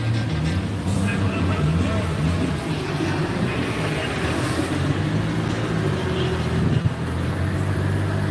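A car runs on an outdoor dyno at a live event, its engine giving a steady loud rumble and drone throughout, with outdoor crowd noise and talk mixed in.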